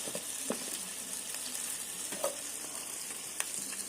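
Onion, tomato and green chili sauté in a hot oiled pan with a steady, close sizzle, broken by occasional small pops and stirring clicks, and no voices.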